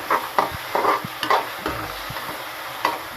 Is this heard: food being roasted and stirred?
yes